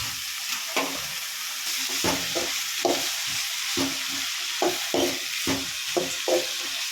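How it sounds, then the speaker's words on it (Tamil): Tomatoes for a chayote chutney sauté in a pan, a close sizzle broken by rhythmic, repeated spoon scrapes and taps as they are stirred. "தக்காளியும் நல்லா வர அளவுக்கு வதக்கிக்கலாம்"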